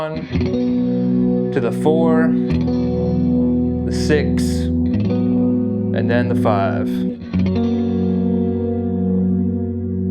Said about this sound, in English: We'll just be ringing out some diamond chords.